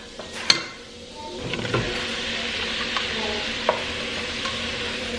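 Brussels sprouts tossed back into a hot pan with butter, Scotch whiskey, white sugar, salt and pepper give a steady close sizzle, with occasional knocks and scrapes of stirring.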